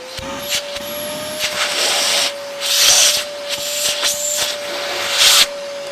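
A Vytronix handheld vacuum cleaner runs close with a steady high motor whine, while bursts of hissing suction and brushing rise and fall as it is moved over a surface. No one talks.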